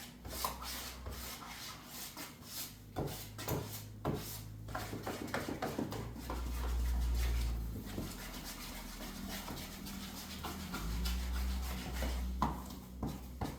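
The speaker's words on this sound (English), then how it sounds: "I'm scraping the bottom as I go. I'm scraping the sides." Hot-mix drywall mud being scraped from the bottom and sides of a container, a steady rasping, rubbing scrape repeated close up, with no talking.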